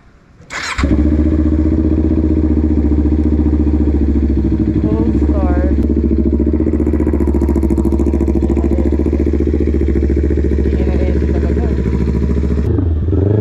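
A Kawasaki Ninja 400 motorcycle cold-starts with a sharp crank and catches, settling into a loud, steady close-up idle that runs on unbroken until the engine is shut off near the end.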